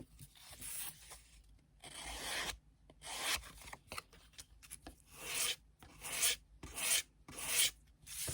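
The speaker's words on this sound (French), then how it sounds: "Un petit coup de lime." A hand file rasps against a small craft piece while making Christmas tags, in a series of short, close strokes with brief pauses between them, growing more rhythmic toward the end; no one speaks.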